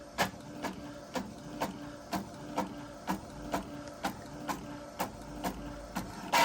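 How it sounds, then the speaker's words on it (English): An Epson EcoTank inkjet printer printing on vellum paper, a faint steady mechanical hum broken by a dozen or so evenly spaced clicks as the print head shuttles back and forth, heard up close without talk. "And as you can see, it's printing. It's not jamming."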